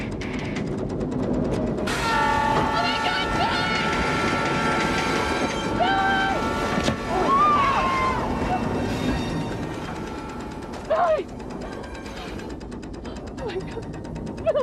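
Train approaching on railroad tracks in a rail safety announcement, with a loud rumbling roll and clattering wheels, a sustained horn blast, screeching tones and a voice speaking over the noise.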